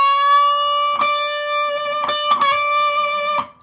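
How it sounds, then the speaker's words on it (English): An electric guitar sounds a sustained note with several half-tone string bends, each pitch rise marked by a pick attack. The note rings clearly and alone, then cuts off. "First we're going to start out with a half tone bend."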